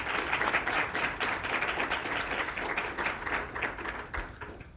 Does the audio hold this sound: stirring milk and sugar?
no